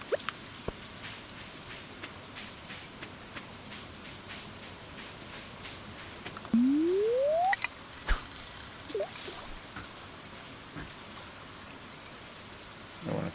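Steady game rain falls over a Stardew Valley farm, a soft even hiss of drops broken by a rising electronic chime and a few light clicks, with no talking.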